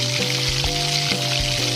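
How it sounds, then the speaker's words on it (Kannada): Chopped onions fry in oil inside a pressure cooker, giving a steady, dense sizzle with faint crackles and a low hum underneath, close and continuous. "ಸ್ವಲ್ಪ ಕಟ್ ಮಾಡಿರೋಂಥ ಈರುಳ್ಳಿ ಹಾಕೊಂಡು ಸ್ವಲ್ಪ ಫ್ರೈ ಮಾಡ್ಕೊತಾ ಇದ್ದೀನಿ."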